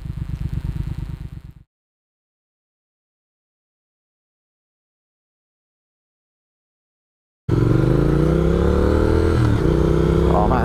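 A Triumph Speed Twin motorcycle engine drones loudly while riding, cut off abruptly by a long silence, then returning as a steady close engine roar with rising revs and wind.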